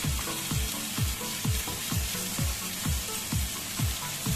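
Kangkong stems (water spinach) fry with pork in a hot pan, giving a steady close sizzle broken by regular stirring strokes roughly every half second.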